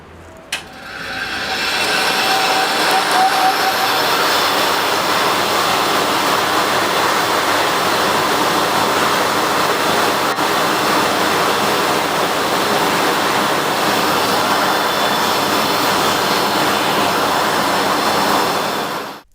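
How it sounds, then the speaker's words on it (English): A coal forge blower runs steadily on the fire, a loud continuous broadband rushing roar that starts after a brief thump and holds evenly for the rest of the stretch. "coal is added to the fire and the blower is activated"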